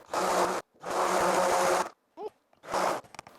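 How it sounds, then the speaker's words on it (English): A stick blender mixing thick soap batter runs in three short buzzing bursts, loud and close, with brief silences between them and a faint clink in one gap. "I'm gonna give it a few blasts with my stick blender"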